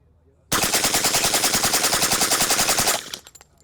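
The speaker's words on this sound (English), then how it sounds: "For the record, this is a UMP 45 full auto." A suppressed UMP 45 submachine gun fires one continuous full-auto burst of rapid, evenly spaced shots. The burst is loud and close, lasts about two and a half seconds, and ends in a brief rattle.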